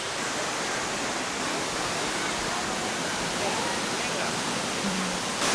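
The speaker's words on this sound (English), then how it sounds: "It could be just our proximity to this waterfall." Dense, steady roar of a waterfall in the Cameron Highlands, Malaysia, a broad hissing rush of falling water that fills the whole clip at constant loudness without a break.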